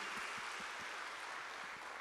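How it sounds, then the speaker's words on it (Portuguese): A church congregation claps for the volunteers, a soft, distant patter of applause that runs steadily and thins toward the end. "Eu peço que vocês deem um aplauso aí para eles"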